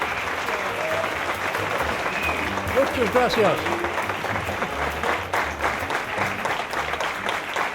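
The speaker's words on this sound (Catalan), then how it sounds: "Jo crec que mereix un aplaudiment" An audience at an international graphic humour award ceremony applauds the winner with thick, continuous clapping that swells midway, while a voice speaks briefly over it.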